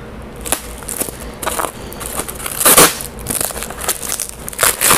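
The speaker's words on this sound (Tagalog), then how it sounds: "Kapal ng bubble wrap." Thick bubble wrap crushed and crinkled by hand while unboxing a 2-liter water bottle, a close, loud run of crackling pops and rustles in irregular bursts with no talk.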